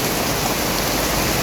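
Heavy downpour in a garden with potted plants outside, a steady dense hiss of rain that stays even and loud throughout, with no voices.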